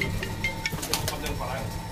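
Pigeons in a loft beating and flapping their wings in short bursts, with soft cooing nearby and a voice speaking under the fluttering.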